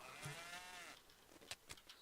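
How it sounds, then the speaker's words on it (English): Retro DOS game sound effect of a sheep in Redneck Rampage bleating once in a long, wavering, drawn-out call, followed by a few short clicks and thumps. "For some reason there's a sheep"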